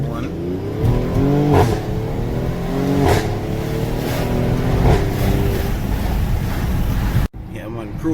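A Mercedes-AMG GLE 43 Coupe cruises along with a steady engine and road rumble and wind noise throughout, heard from inside the car under muffled voices, ending with a brief dip.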